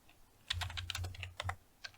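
Fingers tap on a computer keyboard in a Windows investigation exercise, a quick burst of close, crisp keystrokes with irregular rhythm and a final stray tap.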